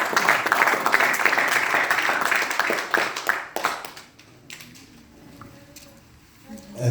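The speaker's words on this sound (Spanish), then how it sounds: "Gracias, fuerte aplauso" Applause from a church congregation, a dense patter of clapping that runs loud for several seconds, then thins out and fades into quieter room sound.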